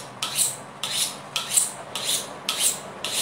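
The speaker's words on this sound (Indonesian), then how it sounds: "pakai sharpening. Jadi nanti ini juga membentuk micro edge ya" Steel blade of a Cap Banteng kitchen knife drawn repeatedly across a sharpening stone, six even rasping strokes at a steady rhythm, close and clear with no talking.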